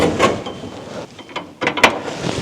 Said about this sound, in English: Now I'm removing the old brake line.